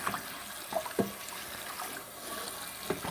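Hot water runs from a tap into a kitchen sink for washing a pan, a faint steady splashing rush with a few soft knocks and clinks of dishes.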